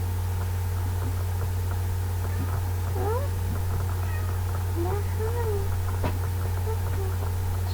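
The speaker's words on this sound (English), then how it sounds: "it's just my cat coming to say hello" A pet cat meows several times, short rising and falling cries close to the microphone, over a constant loud low hum and hiss.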